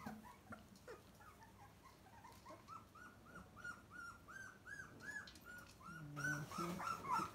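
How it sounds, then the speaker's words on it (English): A three-week-old puppy whimpers in a steady series of thin, rising-and-falling cries, close and fairly quiet, growing louder and more insistent near the end, with a soft background hiss and no talking. "This is the puppy's name is America"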